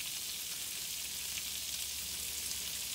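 Onions and peppers fry in melted butter in a pan for pork fried rice, giving an even, close crackling sizzle that holds steady throughout with no talking.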